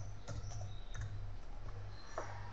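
Fingers type a folder name on a computer keyboard, a quick run of close, light key clicks with a few louder taps over a steady background hiss.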